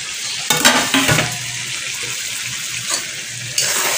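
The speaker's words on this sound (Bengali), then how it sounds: "মাংস কষা হচ্ছে" Chicken meat being stir-fried (kosha) in a pan, with a steady sizzle, broken by a few sharp scraping stirs and clatters near the start and at the end.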